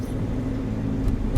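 A car driving into the Fukushima exclusion zone, a steady low rumble of engine and road noise from inside the vehicle, moderately loud and heard alone.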